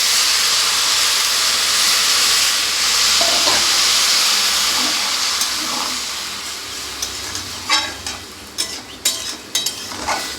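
Dal and cabbage frying in a pan give a steady hiss and sizzle as water is added, with a few sharper crackles and bursts rising near the end; no talking.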